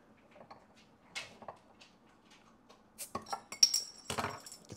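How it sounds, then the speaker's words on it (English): A glass bottle of Fever Tree cucumber sparkling water is opened with a bottle opener: faint clinks and handling, then a sharp metallic clink and cap release with a short fizzy hiss near the end. "I'm just going to go ahead and open this up. My fancy bottle opener."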